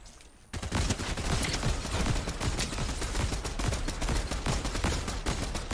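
Dense, continuous gunfire in the Fortnite video game erupts after a brief quiet start, a loud rapid burst of overlapping shots that carries on without pause.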